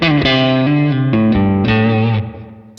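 An electric guitar on its neck pickup, run through a Keeley overdrive pedal, plays a short melodic line of sustained, warm, lightly driven notes that change pitch every half second or so, loud and upfront with no talking.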